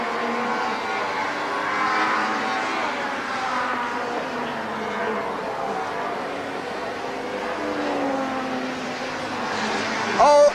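Touring race cars from the 1995 ITC season race through Redgate corner at Donington, a steady roar of several engines blending together throughout, with a commentator talking over the noise.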